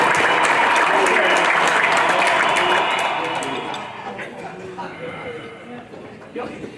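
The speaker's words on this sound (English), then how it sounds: "Can we have some applause for our serving staff?" Audience applause for the serving staff at a dinner event, a dense burst of clapping that starts loud and steady, then thins and fades over the last few seconds with scattered murmurs beneath.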